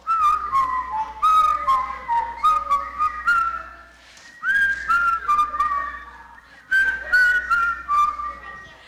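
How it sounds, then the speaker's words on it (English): Someone whistles a tune in short, melodic phrases with brief pauses between them, clear and close, with a low steady hum beneath and no talking. "Let's whistle."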